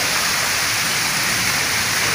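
Steady morning rain falls in a Punjab village, a dense, even hiss of drops on surfaces that holds unchanged throughout with no voices.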